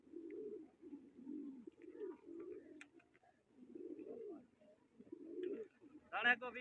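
Pigeons coo softly and repeatedly in low, rolling phrases, fairly quiet and close, with a brief sharper call near the end.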